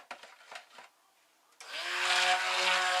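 After a short run of soft handling clatter, a blender kicks on and whirs steadily and fairly loudly, mixing an aloe vera, cucumber and shea butter soap batch with sugar water and salt.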